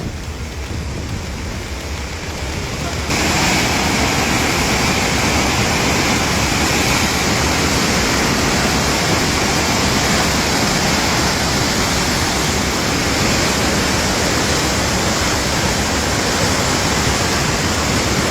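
The Ravi river in flood, rushing water roaring as a loud, steady broadband wash that swells after a quieter opening and stays constant to the end, with no talk over it.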